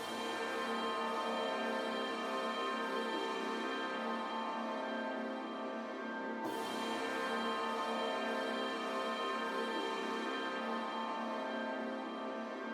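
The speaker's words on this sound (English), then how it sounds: "Then I added a pad from Omnisphere." A lush synth pad from the Omnisphere Bollywoodized Western preset in a dark trap beat holds a thick, steady chord throughout, shifting to a new voicing midway, loud and continuous with no talk.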